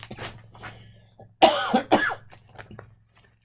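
A couple of sharp, throaty coughs burst out close to the mic, following a faint spoken word and soft breathing.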